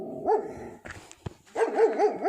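An angry house dog confronts a visitor, letting out close, wavering whining barks and yelps in two stretches, separated by a short pause with a few sharp knocks.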